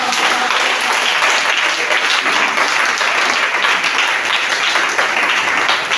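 A church congregation applauds in praise, dense sustained clapping from many hands filling the room, loud and continuous throughout.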